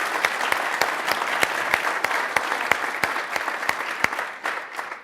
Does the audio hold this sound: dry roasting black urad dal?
no